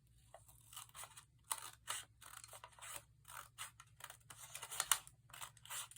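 Scissors cut slowly along a drawn line on paper, shaping a petal. The snips come close and fairly faint in an uneven series with brief pauses, and no voices are heard.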